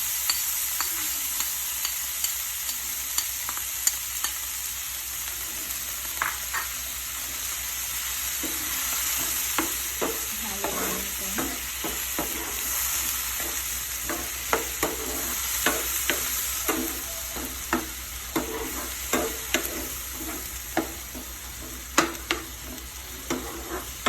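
Corned beef with potatoes, tomato, onion and garlic sautés in a pan, a constant bright sizzle punctuated by soft scattered clicks and scrapes of a spatula stirring.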